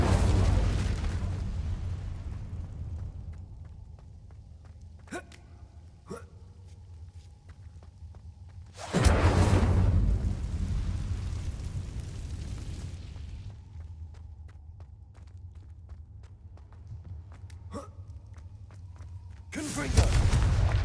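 In Hogwarts Legacy, an Incendio fire spell goes off as a loud roaring whoosh of flame after scattered clicks over a low rumble, and a second fiery burst flares at the very end.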